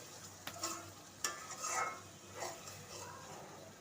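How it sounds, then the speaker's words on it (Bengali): Spice paste of ground coriander, ginger-garlic paste and salt stir-fried for baila fish bhuna, with soft scraping of a spoon and a few sharp knocks against the pan over a low, steady sizzle. "এখন মশলাটা 5 মিনিট কষিয়ে নেব।"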